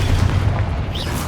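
A Confringo spell blast in Hogwarts Legacy, a loud, deep booming explosion with a rumbling low end that fills the short moment, close and heavy with a faint whooshing tail.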